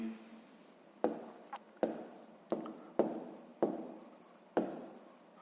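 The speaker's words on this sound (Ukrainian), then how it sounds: "Я записуємо відповідь." Pen writing an answer by hand on paper in a sixth-grade maths exercise: several short scratchy strokes in a loose rhythm, close and quiet, with brief pauses between them.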